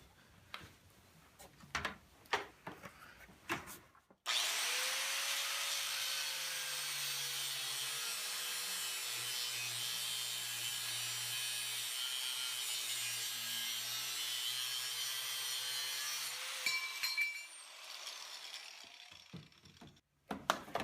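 Wood is sawn to cut out a knife-making bevel jig: after a few scattered knocks, a loud continuous rasping cut runs steadily for about twelve seconds, close up, then tapers off into quieter handling noises with no speech.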